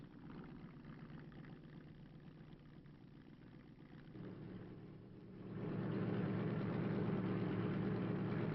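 Ford LTD engine as heard from inside the car, a low, muffled steady drone at first that swells and grows louder partway through, then holds.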